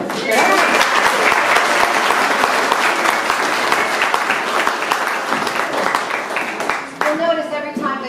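An audience at a Celtic concert in Romney, West Virginia applauds a band's set with dense, loud, sustained clapping that fades near the end as a voice begins talking.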